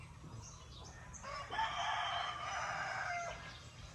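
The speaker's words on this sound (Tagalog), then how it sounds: "Marinig nila yung huni ng ibon." A single drawn-out bird call, rooster-like crowing, sounds faint and distant in the quiet morning air over a low background hum.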